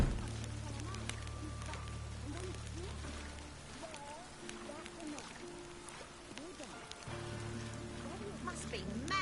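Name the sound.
rain falling in The Witcher 3 video game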